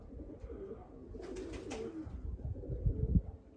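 Pigeons of the Budapest breed cooing and calling together near a flock kept outdoors, soft layered coos throughout with faint wing flutter, moderately close and steady, swelling a little louder toward the end.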